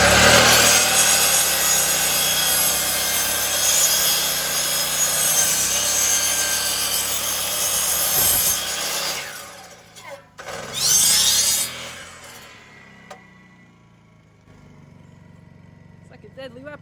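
Hand sawing a wooden piece for an off-grid Alaska shed rafter, a loud rasping stroke sound that continues for about eight seconds, then stops and gives way to brief clunks and quieter handling noise.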